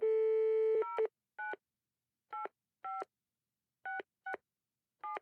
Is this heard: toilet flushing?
no